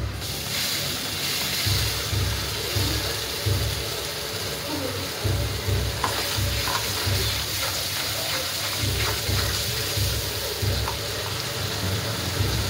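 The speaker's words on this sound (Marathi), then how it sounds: "तेल सुटोस्तर छान असं भाजून घेऊया" Chopped ingredients for palak paneer fry in hot oil in a pan, giving a continuous broad hiss and sizzle with soft, regular low thumps as they are turned, fairly close and steady.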